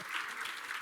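A church congregation at an anointing service applauds in a dense, steady burst of many clapping hands, brief and fairly soft.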